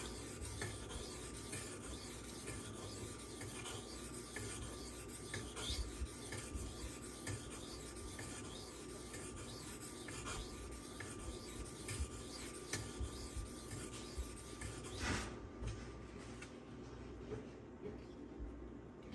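A Spyderco Manix knife in CPM 15V steel being sharpened on its bevel, a continuous fine raspy rubbing of steel on an abrasive with rhythmic strokes, quiet and close, and a brief louder scrape near the end.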